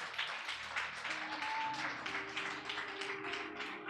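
Applause from a church congregation at a testimony service, a steady wash of clapping lasting several seconds with a tonal murmur underneath.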